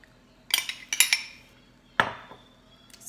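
Metal spoon scraping and clinking against a pan as tomato sauce is spread over a cauliflower pizza crust, with a few short scraping bursts separated by quiet pauses and one sharper clink.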